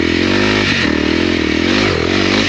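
A 2022 Honda CRF 300L fuel-injected motorcycle engine runs steadily close by, a smooth continuous drone with slight rises and dips in revs and no talking over it.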